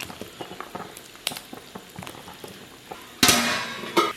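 A pot of tomahawk beef and potato stew simmering, with soft bubbling and scattered small pops, then a louder burst of rushing, hissing bubbling toward the end.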